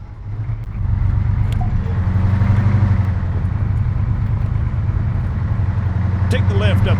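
A vehicle in the Arma 3 video game starts moving and drives with a steady, loud low engine drone that holds throughout, with faint clicks near the end.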